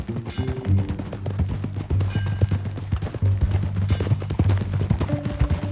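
Horse hooves clip-clop steadily on the ground in Red Dead Redemption 2, a brisk repeating beat close by, with low ambient rumble underneath and no talk.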